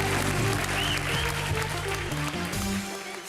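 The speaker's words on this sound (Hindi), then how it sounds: "भारती और करण के लिए जोरदार तालियां।" Steady applause from a studio audience fills the clip, dense clapping at even loudness, with faint voices and music underneath.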